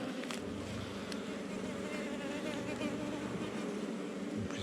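Steady, dense buzzing of a honeybee colony inside a hive, a continuous close drone with no pauses and a couple of faint clicks over it.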